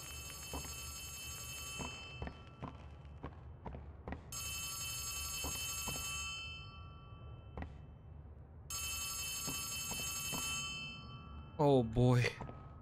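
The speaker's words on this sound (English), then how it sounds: "There's a phone ringing." A telephone rings in a dark area of the video game Poppy Playtime Chapter 3, with three long, fairly faint bursts of electronic bell ringing separated by pauses, along with scattered footsteps and clicks.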